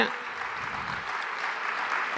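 A church congregation claps together in praise of God, a steady broadband patter of many hands that holds evenly through the whole stretch at moderate loudness.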